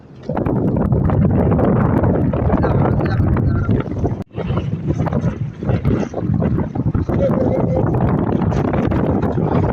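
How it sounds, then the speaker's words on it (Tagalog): Strong northeast monsoon wind roars steadily against the microphone aboard a fishing boat, loud and buffeting, with a brief dip midway and no clear talk. "Grabe, lakas ng hangin."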